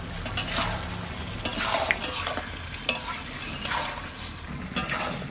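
A spoon stirring a pan of chicken curry over the heat, repeated scraping strokes against the metal over a steady sizzle, close and fairly quiet, several distinct stirs with no talking.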